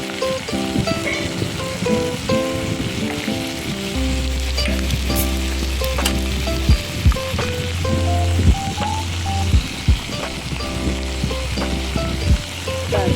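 Onion tossed into a hot pan with turmeric while making a Bengali eggplant bharta, a steady close sizzle with stirring knocks and scrapes, no speech over it.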